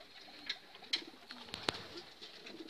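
A few homing pigeons coo during a short training session outdoors, giving soft, brief calls spaced a second or so apart over a faint, steady background.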